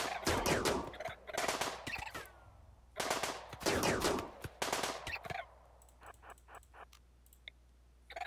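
RimWorld video game combat gunfire, loud rapid bursts of automatic shots in clusters with short gaps, followed by quieter scattered clicks and faint pops trailing off.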